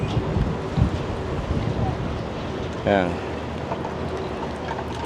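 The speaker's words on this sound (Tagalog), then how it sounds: "Dahil ang lakas ng hangin." Strong gusting wind buffets the microphone during an outdoor walk along Fremont Street downtown, a rough low rumble that swells and dips, with a brief voice speaking partway through.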